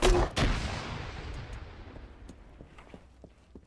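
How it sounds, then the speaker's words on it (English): A grenade bursting against a vehicle in Arma 3: one loud, close blast at the start, followed by a long rumbling decay and scattered faint crackles. "I'll just have some fun here and toss a grenade at the vehicle"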